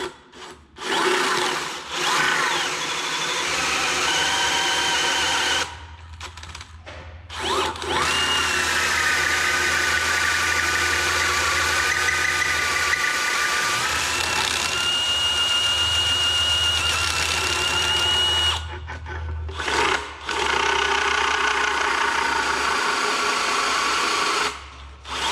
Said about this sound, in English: Get this old junky DeWalt drill.